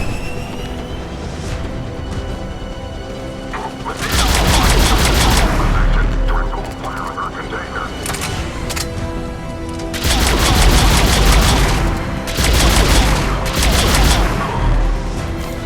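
Gunfire at a checkpoint in Mass Effect 3 during a battle, loud bursts of rapid automatic fire recurring in waves over a continuous rumbling roar, with voices speaking.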